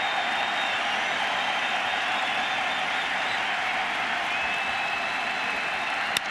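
A baseball stadium crowd at a Yankees versus Red Sox game roars and applauds in a dense, continuous wash of cheering, steady and loud throughout.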